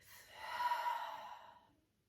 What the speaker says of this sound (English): Breathing it out through the mouth.